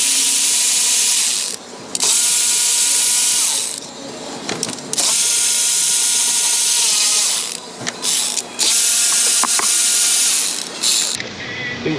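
A ratchet wrench backs out bolts and nuts on a 2015 Nissan Pathfinder, with close, loud bursts of rapid clicking broken by brief pauses. No voices are heard.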